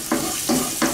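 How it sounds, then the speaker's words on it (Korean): Garlic stir-fries in oil in a frying pan, sizzling continuously with three short rhythmic scraping swishes as it is stirred, close and fairly loud with no voices. "마늘을 넣어서 이렇게 볶습니다"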